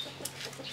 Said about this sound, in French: c'est son coq de combat